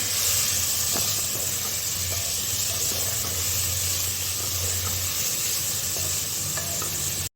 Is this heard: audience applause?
no